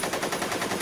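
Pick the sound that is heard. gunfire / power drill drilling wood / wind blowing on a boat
gunfire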